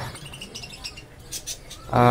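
High, thin chirping calls from a cockatiel chick in short repeated bursts, close by, with a louder burst of sound at the very end.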